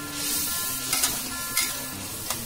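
Asafoetida hits hot oil in a pan for a jackfruit kofta curry, giving a steady close sizzle with a few brief stirring clinks and scrapes, no voices.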